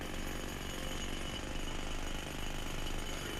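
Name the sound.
jackhammers at a work site in the Sniper Ghost Warrior 3 video game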